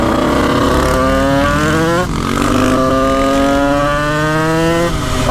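A 650 motorcycle rides along at dusk, its engine note rising steadily through the gears with a brief dip at a shift, close and loud with strong wind rush.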